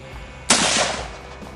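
A single loud rifle shot at a shooting range, with a sharp crack followed by a brief decaying echo and no talk.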